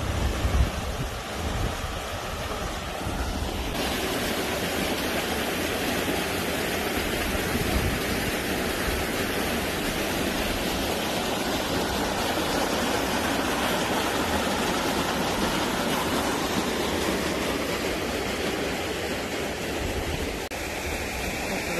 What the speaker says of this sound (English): Another part of the creek that goes through the gorge